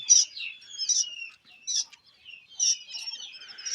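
Quail give repeated high, thin chirps in short bursts with brief pauses between them, clear and close against a quiet background.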